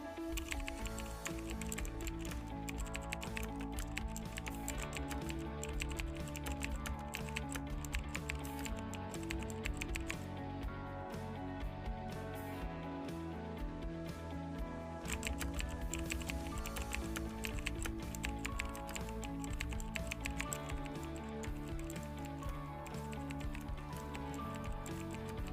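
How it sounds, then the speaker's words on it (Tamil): Someone types a terminal command on a computer keyboard for Ubuntu running in VirtualBox, producing quick, fairly quiet key clicks in irregular runs under a steady hum. "தென் நான் டைப் பண்ணுற கமாண்டை டைப் பண்ணிக்கோங்க."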